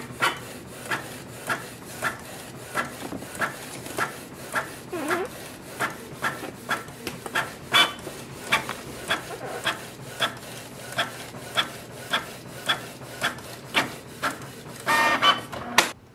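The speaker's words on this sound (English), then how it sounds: "press color button, as I'm going to do the color copy" Canon Pixma G3260 all-in-one printer making a color copy, with a steady run of short rhythmic mechanical clicks and scraping pulses about every half second, plus a louder whirring burst near the end.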